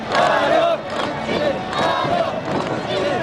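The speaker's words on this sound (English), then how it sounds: "the sound of huge crowds lining the streets of Pyongyang, chanting "Welcome Putin" in almost perfect unison" Huge crowds lining the streets of Pyongyang chanting in near unison, loud massed voices rising in rhythmic waves with phrases repeated several times and sustained roaring between them.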